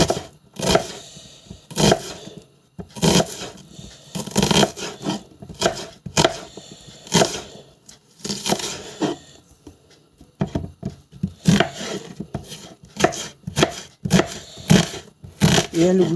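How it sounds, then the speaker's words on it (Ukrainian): A knife chopping onions into quarter rings on a board, brisk uneven bursts of cuts with short pauses between runs, close and clear. "Ріжу їх на четверо, чверть кольцями"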